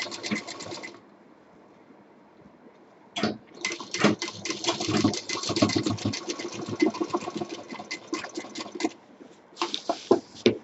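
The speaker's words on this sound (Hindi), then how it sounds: "वहाँ पर डबल मशीन देके छोड़ेंगे, सिंगल मशीन नहीं चलानी है" An electric sewing machine stitches a cloth bag in short runs: a brief burst, a pause of about two seconds, then a long rapid rattling run and a final short burst, heard close with no talking.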